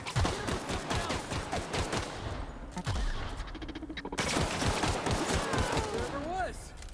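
Gunfire in a video game battle between rats, with rapid bursts of shots and clattering impacts that come and go in waves, mixed with game sound effects and occasional voices.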